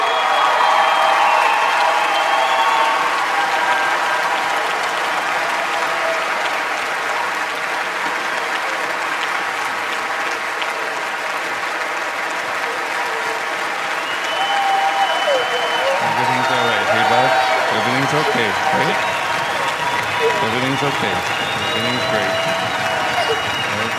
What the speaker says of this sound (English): Applause for the young man here